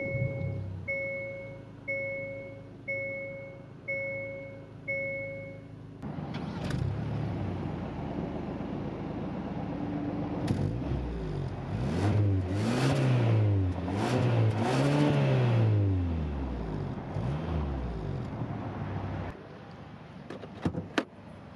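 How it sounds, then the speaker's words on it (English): A Hyundai Sonata N Line's 2.5-liter turbocharged four-cylinder cranks and starts after a few chimes, then settles into a steady idle and blips through several rising and falling revs, heard close with no talking. "the main draw of the Sonata inline is the turbocharged engine. So let's press the button and start it up."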